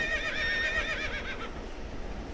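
A working horse neighs and whinnies loudly and close by in an outdoor struggle with a handler, its calls rising and wavering over a steady rumble of movement and possible hoof clatter.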